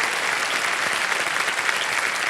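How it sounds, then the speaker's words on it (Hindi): Studio audience on a Hindi quiz show claps in dense, continuous applause, steady and fairly loud throughout the short stretch. "तालियां बज जाए इनके लिए।"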